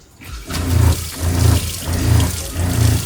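Water runs from a newly plumbed tap into the sink of a retro Airstream trailer under renovation, a steady close splashing with pulsing surges and no talking.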